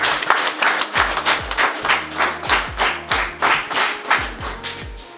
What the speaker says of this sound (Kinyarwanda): kugira ngo muntize amashyi dushimire abanyeshuri ko bitwaye neza